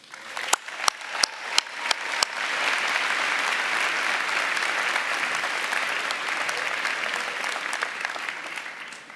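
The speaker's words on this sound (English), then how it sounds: "let's give all the supporters of our students a round of applause" A few sharp claps ring out, then a crowd at a university commencement breaks into sustained, steady applause that carries on evenly to the end.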